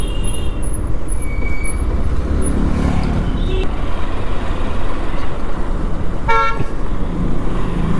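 Road traffic lined up at a checkpost on the Khandala ghat climb near Lonavala, with a steady rumble of idling and moving vehicles and a short car horn toot near the end, plus faint voices in the background.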